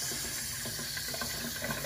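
Water flowing from a newly installed pull-out kitchen tap, a steady faint hissing stream with light splashing in a sink, brief and continuous with no talk.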